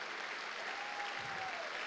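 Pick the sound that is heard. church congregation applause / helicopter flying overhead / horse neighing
church congregation applause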